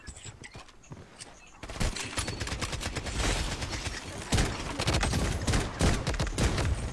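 Rapid, loud gunshots from a sniper in a video game, with sharp overlapping cracks that come in dense bursts and continue almost without pause after a quieter opening.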